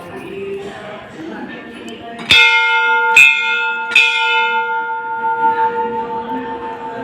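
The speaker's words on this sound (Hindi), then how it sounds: "यहाँ या किसी भी मंदिर में आप घंटी बजाते हैं" A bell inside a Jain temple is struck three times in quick succession, each strike ringing out with a long, bright, sustained resonance over faint background murmur.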